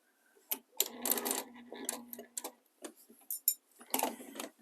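Sewing machine stitching a whole cloth quilted table runner with cut-out edges, short bursts of rapid mechanical clatter separated by brief pauses, close and fairly quiet, with no talking.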